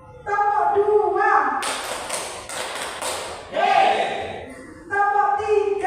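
A group of children clap hands in a clapping game, with a burst of several sharp slaps and thuds set between chanted voices.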